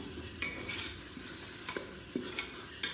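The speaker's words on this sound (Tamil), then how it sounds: "இதுவும் நல்லா வதங்கி எண்ணெய் பிரிஞ்சு வரட்டும்" Ginger-garlic paste sautéing in oil for mutton biryani, a constant close sizzle with occasional light clicks and scrapes of a stirring spoon against the pan.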